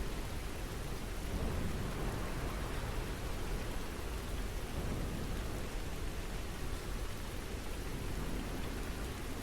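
Heavy rain during a thunderstorm pours as dense, unbroken hiss with low rumbling beneath, even and steady throughout with no voices.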